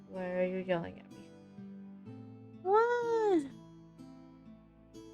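A pet cat meows loudly in two drawn-out, rising-and-falling calls about two seconds apart, close by in a quiet room, with a brief spoken word between them.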